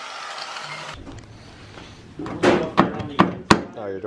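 Several sharp, separate thunks of a hand yanking at a locked car door fitted with new metal fenders, spaced roughly evenly, loud and close, with a voice speaking briefly before them.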